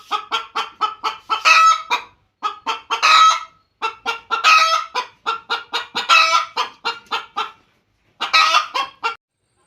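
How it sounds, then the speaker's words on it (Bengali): A hen clucks loudly and insistently after laying an egg, in quick repeated bursts, short cackling phrases separated by brief pauses, close and alone. "একটা ডিম পেরে মনে হয় কি দেড় ঘন্টার মতো কক কক কক লাগাইছে"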